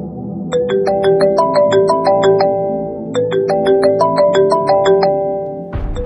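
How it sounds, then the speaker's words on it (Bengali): A mobile phone ringtone plays a repeating melodic chime pattern, loud and close, cycling twice before cutting off abruptly with a brief rustle at the end. "আরে গাড়ি মালিক ফোন করেছে রে"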